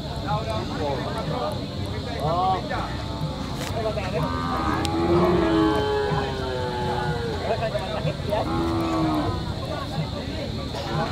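Large cattle arriving at night at a livestock market in Bacong moo repeatedly, several long low calls near and far, while people talk throughout.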